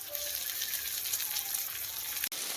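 Garlic, green chilli, tomato and curry leaves sauté in a pan for a goat intestine curry, giving a soft continuous sizzle with a brief clunk near the end.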